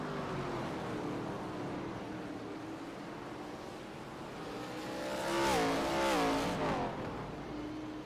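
A race car engine in a racing video game holds a steady high drone, then revs up and down midway as the throttle is worked. It is moderately loud with no talk.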